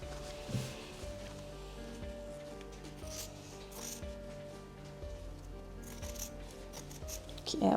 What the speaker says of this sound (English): I will now cut back the seam allowance.